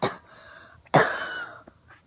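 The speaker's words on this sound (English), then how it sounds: "It looks like you coughed out the cards" A person fakes two coughs as part of a card trick meant to look like coughing up playing cards: a short sharp cough, a pause, then a louder, longer cough with a faint exhale after, close to the mic and with no talking.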